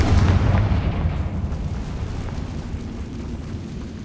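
Confringo blasting spell exploding in the video game Hogwarts Legacy, a loud low boom already under way that rumbles and slowly fades over several seconds, with no talking.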